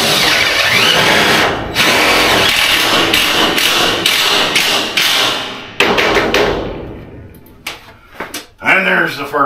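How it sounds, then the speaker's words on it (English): A power drill drives screws into framing for a cedar-topped structure, giving loud close bursts of whirring and thumping, broken by short pauses and clattering handling noise. "Put a few more screws in down on the end"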